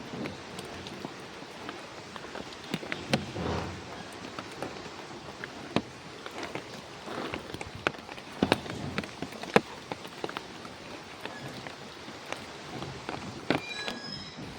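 Rain keeps falling after a strong storm beside a village pond, with broken jackfruit branches and banana trees nearby: a steady, fairly faint hiss of drops, scattered sharper taps and crackles, some brief stronger gusts, and no speech.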